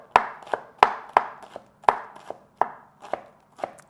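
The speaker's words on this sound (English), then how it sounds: "do some slices this way, and then get this thing finely minced." A knife finely minces a shallot on a cutting board: about a dozen crisp, close chops in an uneven rhythm, loud and alone with no talking.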